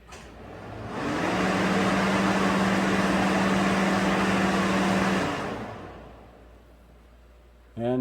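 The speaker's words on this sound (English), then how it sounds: "So the radiator cooling fan works now." The radiator cooling fan of a 2012 Ford F150 whirs up during a key-on engine-off self-test, runs as a steady broadband rush with a low hum for about four seconds, then winds down.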